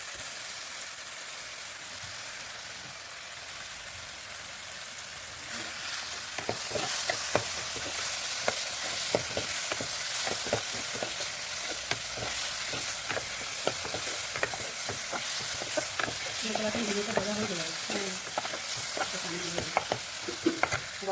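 Potatoes frying in a pan, a quiet hiss that grows into a louder sizzle as stirring begins, with frequent spatula scrapes and taps against the pan.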